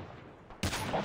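Sniper gunfire in the mobile video game Call of Duty Mobile, with a single loud, sharp shot bursting in after a stretch of low game ambience and ringing briefly after.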